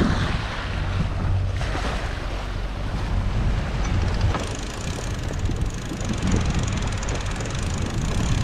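A sailboat under sail heading into deeper open water, with steady wind buffeting and the wash of waves running continuously and fairly loud, no voices.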